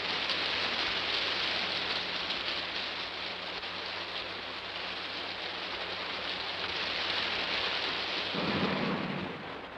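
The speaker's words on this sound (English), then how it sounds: "There's your rain, but good." Heavy rain pours down in a steady, dense roar of broadband hiss that fills the whole stretch, with a deeper rumble swelling near the end.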